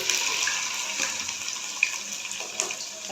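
Okra hits hot oil in a frying pan, giving a steady, close hissing sizzle with small crackling pops scattered throughout.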